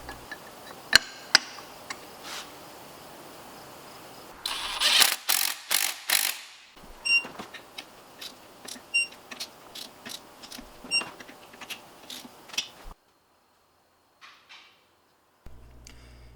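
Tools clink and ratchet while removing the input shaft from a Mazda MX5 six-speed transmission, with sharp metallic clicks and taps, a run of rapid ratcheting, then a short near-silent pause before a few last knocks.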